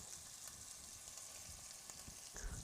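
Steady, quiet crackling sizzle of short ribs frying in a pan, with a brief scrape near the end.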